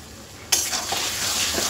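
Ground cumin, coriander and turmeric being stirred and fried in a pan, a sudden hot sizzle that bursts in and holds steady, with a spatula scraping and clinking close by; no talking.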